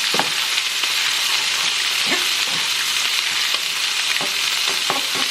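Rice and scrambled eggs stir-frying together for hibachi fried rice, a steady loud sizzle throughout with a few soft scrapes and taps of a utensil mixing the pan.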